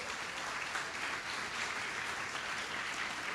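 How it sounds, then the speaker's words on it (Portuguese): Steady audience applause at the opening of an international meeting on participation and democracy, a soft, fairly distant wash of clapping that holds evenly throughout. "eu gostaria de pedir, inclusive, palmas, né, para a Ivone"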